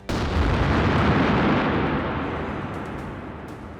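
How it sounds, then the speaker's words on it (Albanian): A powerful remote-detonated explosive blast breaches a prison perimeter wall: one sudden, loud, deep boom that holds briefly, then rolls off into a long, slowly fading rumble. "Një shpërthim i fuqishëm, i telekomanduar nga brenda, shkatërroi një pjesë të murit perimetral të burgut."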